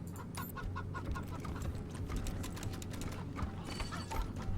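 Chicken clucking in the post-apocalyptic video game Wasteland 3, short repeated clucks over a low steady background with faint clip-clop-like steps, fairly quiet and with no talking.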